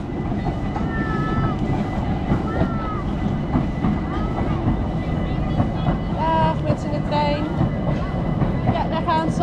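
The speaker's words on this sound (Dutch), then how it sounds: "De trein komt er aan. Kijk, daar komt die, Olly." A train at the Efteling theme park rumbles in steadily with squealing wheels and rattling cars, while people chatter nearby over the noise.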